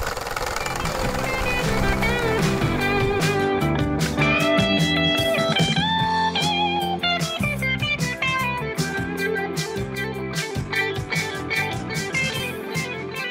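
A hole saw drilling through a motorhome door, a loud, harsh grinding whine with rapid chatter and shifting pitch that runs continuously, close and without talk.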